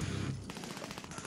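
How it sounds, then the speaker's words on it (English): Sniper fire in the video game Warzone sounds as a brief burst of sharp, rapid gunshot reports, close and loud over a steady game background with no talking. "Oh my god. I just got sniped."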